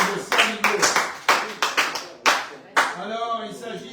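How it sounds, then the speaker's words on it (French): A French radio bistro show's studio audience claps as a guest arrives for a game, with distinct hand claps coming in uneven bursts close to the mic, mixed with some talk and laughter before it settles. "Vous pouvez l'applaudir."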